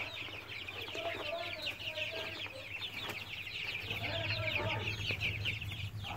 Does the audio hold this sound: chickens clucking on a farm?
yes